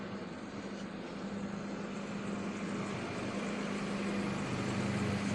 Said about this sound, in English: Just pumping up the tires on the trailer.